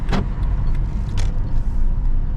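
Interior of a taxi car driving through Kyiv, a loud steady low engine and road rumble with a couple of brief higher whooshes, continuous from start to finish.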